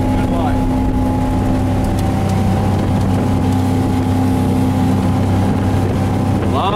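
Motorboat engine cruising at about 4,000 RPM at roughly 32 mph, a loud steady droning hum with a constant pitch, running unbroken and close, with water and wind rush around it.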